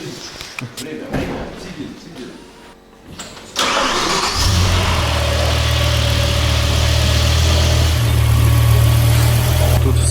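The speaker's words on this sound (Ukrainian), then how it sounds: "За счет э, высоких распредвалов, он грубо работает." After some clattering and handling noises, an 18-year-old BMW M6 E64 engine with high-lift camshafts fires up and settles into a loud, lumpy, uneven idle that rumbles steadily at close range.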